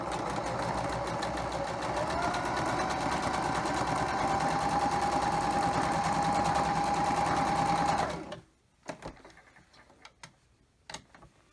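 Sewing machine stitching log cabin quilt block pieces, a fast continuous rhythmic whir running close and steady for about eight seconds, then stopping abruptly, followed by a few faint clicks and handling sounds.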